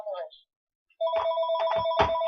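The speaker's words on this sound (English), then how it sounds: "That's a phone." A phone ringtone plays a bright repeating melodic tone in several quick bursts after a brief silence, fairly close, with a short voice heard just before it.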